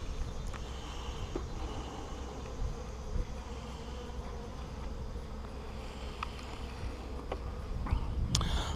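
Honeybees hum around a newly installed hive on a cool, breezy morning with low activity, giving a steady soft buzz throughout with occasional closer passes.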